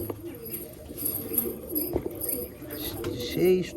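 Soft, low cooing from a red-veined Giribaz pigeon sits under a person's talking, with a few sharp clicks and light rustling close by.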